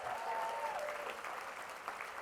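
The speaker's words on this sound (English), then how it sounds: "Give yourselves a round of applause." Roughly a thousand people at a benefit event applaud in a steady, dense wash of clapping, with a faint tonal whistle or voice briefly riding above the crowd noise.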